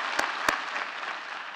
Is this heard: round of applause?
yes